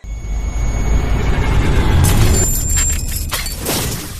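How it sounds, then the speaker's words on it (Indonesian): A knife shattering as a sound effect in an animated Chinese martial-arts donghua: a loud broadband burst of breaking fragments over a steady rumbling bed, with scattered bright debris crackles trailing off. "tiba-tiba pisau yang digunakan untuk bunuh diri hancur begitu saja"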